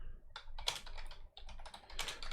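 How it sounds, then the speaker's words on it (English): Rapid typing on a computer keyboard clatters close by in uneven bursts, with a short pause midway and no speech. "My typing's terrible today."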